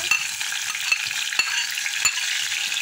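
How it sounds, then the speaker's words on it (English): Seasoning sizzling loudly in hot oil in a pan, with a steady crackling hiss broken by several sharp scrapes and clacks as it is stirred, no voices present. "we are putting the seasoning on our oil hot"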